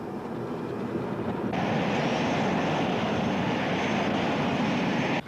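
Engines of a British Airways airliner before takeoff roar steadily and loudly inside the aircraft, swelling louder partway through as the thrust builds.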